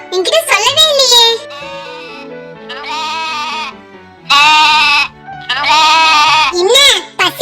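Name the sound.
goat bleating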